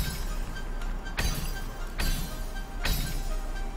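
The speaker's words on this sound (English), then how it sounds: "That shatter sound effect on the..." Three crisp shattering bursts from the refill gem in the video game Celeste, evenly spaced about a second apart, bright and close over a steady background hum.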